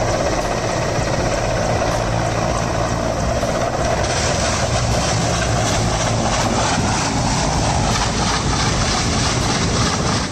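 Helicopter rotor and engine roaring loud and steady throughout, a dense continuous whir with no pauses or talk, after a plastic cover blew into the rotor blades.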